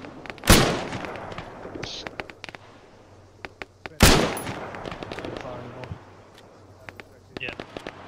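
Gunfire in the military shooter Arma 3, two loud sharp shots about three and a half seconds apart with ringing tails, followed by scattered softer distant pops and clicks while a voice talks quietly.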